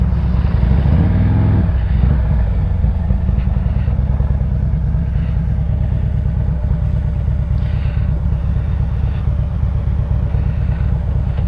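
A car's engine rumbles steadily and loudly as it pulls in and parks in front of a building, with low clattering throughout and no speech.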